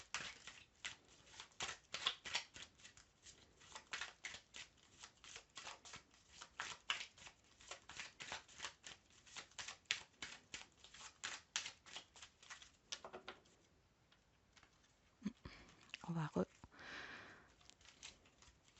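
Oracle cards being shuffled by hand, a long run of quick riffling flicks and soft papery slaps at close range, followed by a brief pause and a few rustles as the deck is handled and cut.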